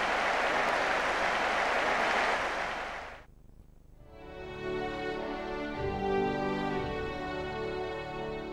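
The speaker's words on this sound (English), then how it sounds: "A huge cheer at Carrow Road." A big football crowd at Carrow Road stadium roars loudly and steadily after a Norwich City win over Ipswich Town, then the roar drops away abruptly before music takes over.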